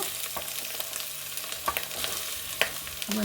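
Onion sautés in a tempering for millet bisibele bath, a soft close sizzle in oil punctuated by a few light stirring scrapes of a spoon against the pan.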